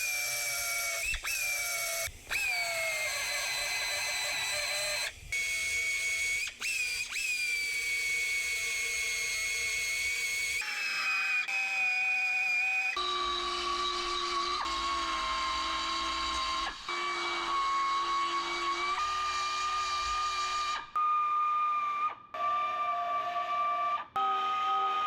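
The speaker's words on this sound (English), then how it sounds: "What I'm doing here is grinding away the first layer of the skin where the spot welds are." A grinder works on the spot-welded skin of a car quarter panel, whining loud and continuous with a shifting pitch as the load changes, with brief dips between passes and no talking.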